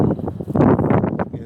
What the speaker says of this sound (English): It's getting kind of windy now.